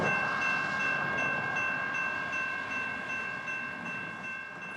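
A train rolls past close by in a steady, loud broadband rumble with sustained tonal whine, slowly fading over a few seconds, no talk.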